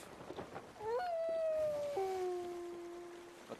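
Dog in the Sea of Thieves video game giving a whining, howl-like yelp with falling pitch, near and moderately loud over quiet background.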